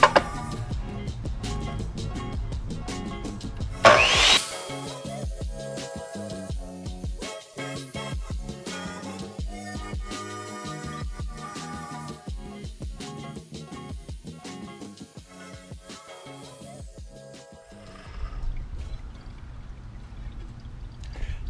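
A RIDGID 8-inch wet tile saw makes a miter cut through tile, a running motor hum mixed with splashing, pouring water and gritty cutting texture, close and continuous with a brief louder burst near the start and no talking.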